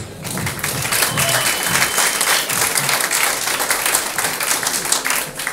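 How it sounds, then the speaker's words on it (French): An audience at a startup anniversary keynote breaks into sustained applause, dense clapping from many hands filling the room, loud and steady for several seconds. "Et on peut les applaudir"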